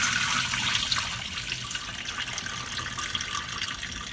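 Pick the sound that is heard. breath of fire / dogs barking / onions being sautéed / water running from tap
water running from tap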